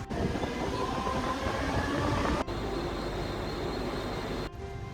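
A Mumbai suburban local train running along the tracks from Nahur toward Kurla, a loud, steady rumble with rattling carriages and a couple of sharp clicks as wheels pass rail joints.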